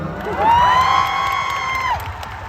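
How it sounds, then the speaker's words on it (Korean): Concert crowd at a show cheering, a sustained chorus of high screams and whoops rising and holding for about two seconds, loud and dense, with little distinct clapping. "스스로한테도 박수 한 번 쳐주세요."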